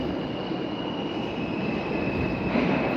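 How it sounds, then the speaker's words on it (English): Inside a New York City subway station, a train rumbles steadily with a dense, roaring wheel noise and a thin sustained high squeal running across it. The rumble grows slightly louder toward the end. "I'm just hanging out in the subway."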